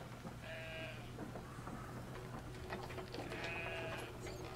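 Sheep bleating in Brothers: A Tale of Two Sons, two separate wavering bleats about three seconds apart over a steady low game-world hum, with no talking.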